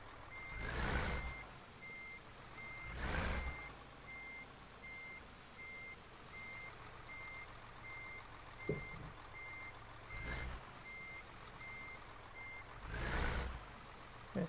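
A Mercedes-Benz Actros 1860 V8 truck in Euro Truck Simulator 2 backs up with a steady series of evenly spaced reversing beeps over a low diesel idle. Occasional louder whooshing swells come through, along with a single sharp click.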